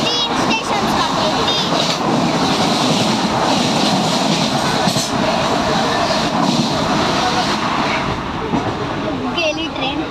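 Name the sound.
train passing by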